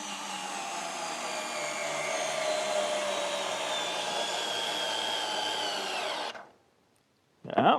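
A Ferrex 12 volt cordless hammer drill runs steadily at high speed for about six seconds, a loud, even motor whine that cuts off abruptly, then starts again briefly after a short pause.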